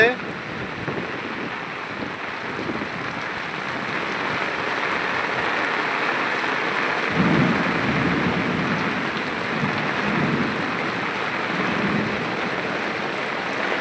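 Steady, heavy rain with thunder in Dhaka hisses throughout, with a low rumble swelling partway through and faint voices underneath.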